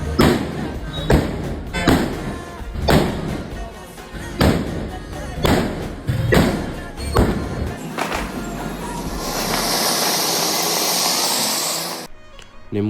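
Deepavali firecrackers burst one after another in sharp, loud bangs roughly every second, a string of close cracks followed by a long hissing, fizzing sparkle that runs for a few seconds before cutting off.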